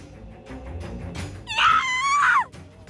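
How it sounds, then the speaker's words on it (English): Screaming villagers in a fiery scene from the otome game Battlefield Waltz: a loud, high wailing scream lasting about a second rises over a low crackling rumble, then cuts off abruptly. "The screams grew louder."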